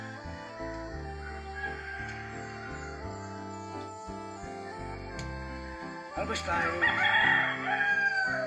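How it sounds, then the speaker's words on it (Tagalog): Native chickens crow on a farm, a rooster's call rising toward the end over steady background music and someone talking. "Ayan, tumitilahok pa."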